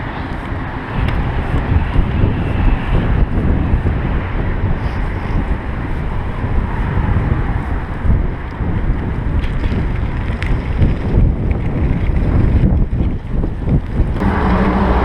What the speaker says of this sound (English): Windy right now.